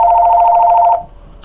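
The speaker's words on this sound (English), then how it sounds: "As usual, phone calls." A telephone rings with one loud, steady electronic trill that holds for about a second and then cuts off, leaving a quiet room.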